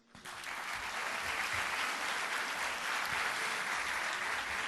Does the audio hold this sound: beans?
no